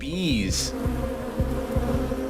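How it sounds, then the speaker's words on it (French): A swarm of bees covering a tree buzzes densely and continuously, a close, droning hum that wavers slightly in pitch. "Cet arbre est entièrement recouvert d'abeilles."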